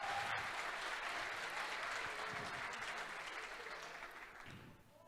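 Steady applause from a church congregation fills the space, a continuous wash of clapping with a faint murmur of voices, tapering slightly toward the end.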